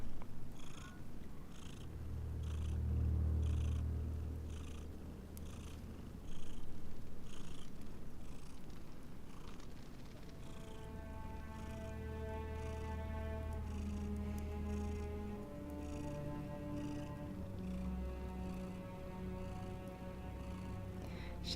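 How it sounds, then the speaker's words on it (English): A female cat purrs close by with a soft, low, rhythmic rumble that swells early on. Later, steady tonal music plays over the purring. No one speaks. "Can you hear her purr?"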